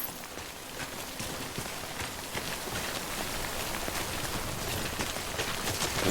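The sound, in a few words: rain in a video game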